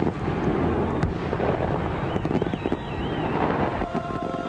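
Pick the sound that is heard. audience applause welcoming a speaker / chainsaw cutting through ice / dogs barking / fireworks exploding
fireworks exploding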